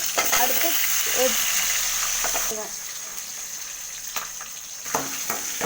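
Urad dal sizzling and frying in hot oil in a pan, a steady bright crackle with intermittent stirring scrapes, louder at first and settling slightly quieter midway.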